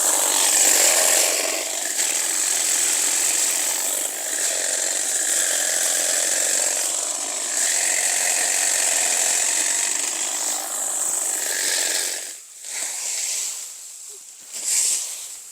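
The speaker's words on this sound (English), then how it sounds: "I'll show you how I do it with a battery operated hedge clipper." A battery-operated hedge clipper trims a clump of garden plants with a loud, steady buzzing whir that runs continuously, then stutters and dips in short bursts near the end.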